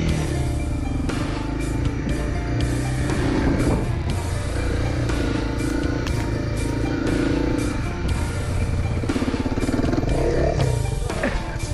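An off-road vehicle engine labouring through a sand pit in General C.C. Andrews State Forest, a loud steady rumbling drone with rattling clatter and shifts in pitch as the gears change.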